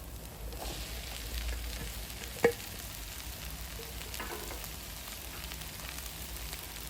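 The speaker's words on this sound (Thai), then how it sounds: "แล้วก็ผัดต่อไปจนพริกกับกระเทียมมันหอมนะครับ" Chili, garlic and vegetables are stir-fried in a pan, making a steady, fairly soft sizzle with one sharp clack of a utensil partway through.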